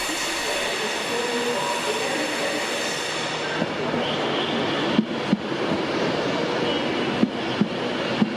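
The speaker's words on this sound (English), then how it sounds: "Two colourful trains in succession." Colourful passenger trains rumble past nearby with a steady roar, including a Pendolino, followed by several sharp clanks and clicks of wheels over track joints.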